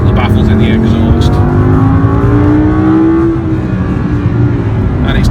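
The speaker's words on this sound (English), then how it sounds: "it actually opens up the baffles in the exhaust" An Audi R8 V10 Plus of over 600 brake horsepower revs with its exhaust baffles open, a loud, close engine drone that climbs steadily in pitch, then eases and holds.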